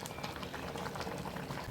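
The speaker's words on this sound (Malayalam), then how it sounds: "ഇതേക്കാൾ നല്ലപോലെ തിളച്ച് മറിയുന്നുണ്ട്" Chicken curry with ash gourd bubbles at a rolling boil in a pot, giving a continuous close, fizzing burble of popping bubbles with no talk.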